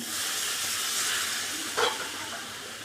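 Water poured into a hot pan of mola fish curry with coriander leaves gives a steady, loud steaming hiss, with a brief sharper spurt of sizzle near the end.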